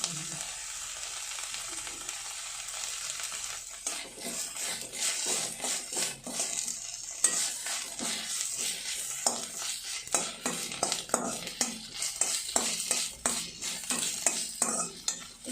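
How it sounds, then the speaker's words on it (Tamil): Manathakkali greens sautéing in a pan, a steady sizzle of frying with repeated scraping and clinking stirring strokes growing busier toward the end, close and moderately loud, no talking. "ஒரு நிமிஷம் வதக்கிட்டு ஆஃப் பண்ணிடுங்க"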